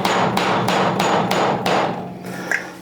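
Repeated hammer blows on a surface, about eight fairly regular, loud, close strikes in a steady rhythm that slows and fades toward the end.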